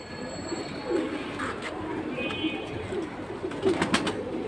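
Pigeons coo in a cage among birds kept for sale, with soft, overlapping coos and restless fluttering close by. Low voices murmur faintly in the background.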